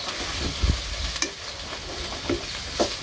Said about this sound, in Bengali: মাংসের তরকারি রান্না হচ্ছে তাহলে